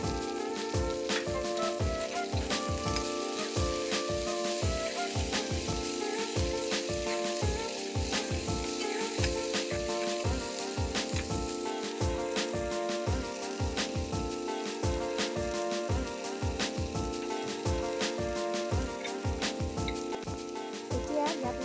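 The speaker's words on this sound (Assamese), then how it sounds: "এতিয়া কাটি লোৱা বিলাহীখিনি এনেদৰে দি আকৌ অকণমান ভাজি ল'ম।" Chopped tomatoes sizzle steadily in a hot pan for a simple Assamese tiffin snack of chola and bread, a close, continuous crackle with the regular scrape of stirring beating through it.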